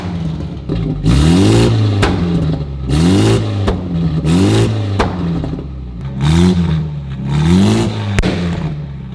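A modified 2019 BMW 330i revs hard and loud, its engine climbing in pitch and dropping back again and again in repeated bursts, close up and with no talking.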